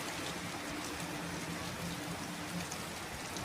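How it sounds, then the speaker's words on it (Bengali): Heavy rain pouring down steadily, a dense, even hiss of drops with no breaks, fairly faint and unbroken throughout, with no one talking. "একদম ঝমঝমিয়ে বৃষ্টি এলো।"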